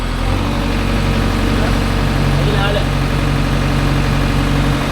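A JCB 3DX backhoe engine held at loud, steady high revs close by, a continuous heavy drone with people talking over it.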